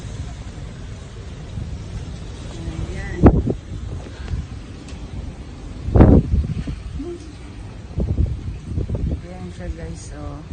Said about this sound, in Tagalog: Medyo malakas ng hangin.